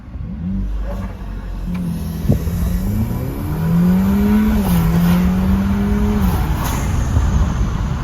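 A modified car engine revs up with a rising, throaty growl, holding a steady loud drone, with a sharp pop partway through.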